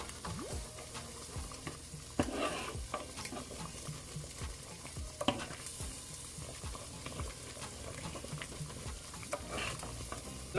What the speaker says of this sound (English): When it starts to boil like this